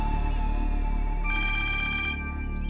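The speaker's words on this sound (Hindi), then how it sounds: "किसका फोन?" A phone ringtone plays a steady electronic melody, loud and close, with a brighter layered tone joining briefly partway through.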